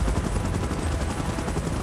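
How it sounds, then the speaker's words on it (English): Helicopter flying in a monster battle scene: a loud, continuous rotor chop with rapid rhythmic beating and a dense broadband roar, close and steady throughout. "Chopper in position."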